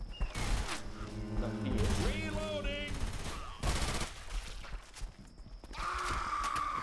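Bursts of automatic gunfire in the Left 4 Dead 2 Fatal Freight campaign, rapid loud rattles in the first seconds and again near the fourth second, with players talking over the shooting.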